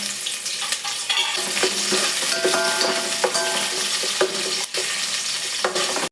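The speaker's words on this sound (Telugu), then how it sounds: "తర్వాత ఉల్లిగడ్డలు వేసుకోవాలి రెండు పచ్చిమిర్చి" Onions and green chillies fry in hot oil for vegetable pulao, producing a dense, loud, continuous sizzle with frequent spoon scrapes and clinks against the pot, close up and without speech.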